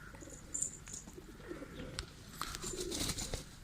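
Pigeons softly cooing in a new coop, with scattered chirps and brief calls over a low background murmur, fairly quiet and close.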